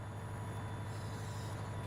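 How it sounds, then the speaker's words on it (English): A train pulls along a platform in Trainz Simulator 3, a steady low rumble with a constant engine hum under faint high rail tones, unbroken throughout. "Train's clipping to the platform now, come on."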